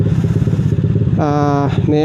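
A motorcycle engine, running hot on a warm day, hums steadily and close up with a low, even drone, while a voice speaks over it.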